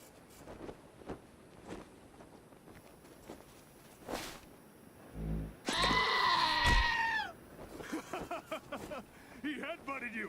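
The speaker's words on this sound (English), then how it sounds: "I just wanted the goat to hit you in the ass." A goat in the game Wasteland 2 bleats and headbutts a player character, with a loud thump followed by a wavering bleat, over soft footsteps and scattered ambient game sounds.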